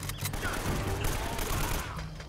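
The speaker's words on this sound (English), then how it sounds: "They all have machine guns." Sustained automatic weapon fire in Uncharted: Drake's Fortune, a dense, continuous rattle of machine guns over the full stretch at steady loudness, with some game noise mixed in.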